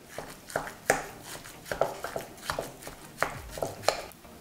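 Wet, squelchy slaps and soft clinks as minced meat seasoned with dry garlic is mixed in a bowl for meatballs, in an uneven rhythm of moderate, close-up bursts.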